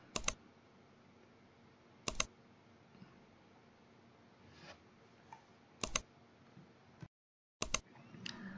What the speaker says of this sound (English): Hit Windows key and R key at the same time